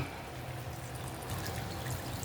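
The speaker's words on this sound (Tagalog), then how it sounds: "Okay, maglagay na tayong tubig." Water poured into a pot of sautéed mung beans for a monggo and chicken feet dish: a steady splashing, gurgling stream that holds at an even level for a couple of seconds, close by, with no talking.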